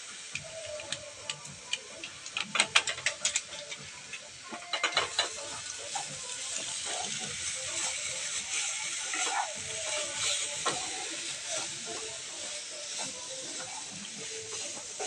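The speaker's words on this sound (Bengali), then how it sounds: "গুঁড়ো দুধটা আমি ভালো করে মিশিয়ে নিয়েছি নারকেলের পুরটার মধ্যে" Powdered milk being stirred into a coconut filling for sweet potato gokul pitha, with irregular clicking and scraping at close range over steady background hiss, loudest in a cluster of sharp ticks early on.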